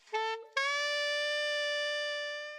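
A dry, effect-free saxophone sample sounds two sustained notes, a short one followed by a long held tone that slowly fades, clear and alone.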